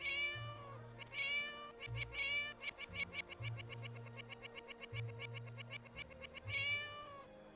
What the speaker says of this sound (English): You can click on the cat. It says meow.